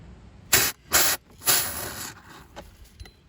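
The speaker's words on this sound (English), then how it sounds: "we're just going to spray a little around here" Short bursts of spraying hiss from a can of expanding foam insulation around an exterior faucet, two quick sprays followed by a longer one that tapers off, with faint handling noises after.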